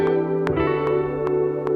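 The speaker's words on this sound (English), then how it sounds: "maybe add a little bit more reverb to this guitar." Electric-sounding guitar melody with added reverb, sustained tonal notes ringing under regular percussive ticks about every 0.4 seconds, with a washy echo tail on each hit.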